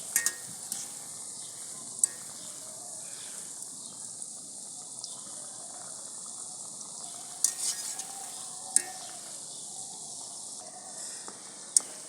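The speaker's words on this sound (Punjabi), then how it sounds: "ਲਓ ਹੁਣ ਥੋੜੇ ਥੋੜੇ ਪੱਕ ਗਏ ਆਪਾਂ ਹੁਣ ਹਿਲਾਵਾਂਗੇ" Shakarpare fry in oil in a wok, giving a steady soft hiss with occasional sharp clicks and taps from stirring, faint and close, with no talk.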